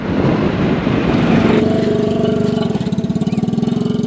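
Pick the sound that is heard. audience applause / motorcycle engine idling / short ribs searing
motorcycle engine idling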